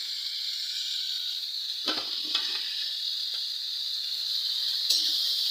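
Yardlong beans tipped into a hot pan of fried potatoes give a steady, bright frying sizzle, broken by a few clinks and scrapes of stirring, with no voices.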